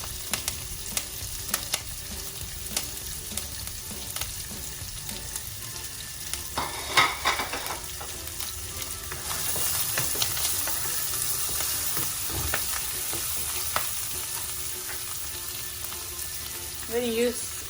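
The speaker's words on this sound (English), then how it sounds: "Now I'm going to saute the shallots. And the curry leaves, keeping a few for later." Shallots and curry leaves sauté in a pan for a prawn curry, with a constant close sizzle, scattered stirring scrapes and a brief trickle of water, with faint talk near the end.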